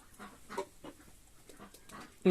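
Muscovy ducks on a small home farm give soft, breathy hisses and low calls in a few short bursts, close by, ending in a louder sudden noise.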